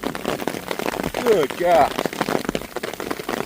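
Hail and heavy rain pour down in a dense, crackling patter of rapid impacts, with a person exclaiming loudly over the storm.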